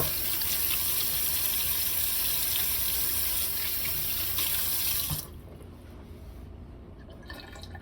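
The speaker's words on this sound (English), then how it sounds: "Now I need to wash my hands again." Running tap water splashes steadily into a sink for several seconds, then the flow cuts off, leaving faint drips and quiet.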